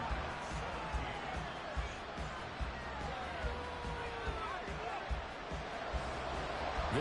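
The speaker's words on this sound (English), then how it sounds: "This crowd alive again." Stadium crowd roar in Madden 24 during a fourth-quarter tie, a steady, dense wash of cheering that holds at an even level throughout, with no voices standing out.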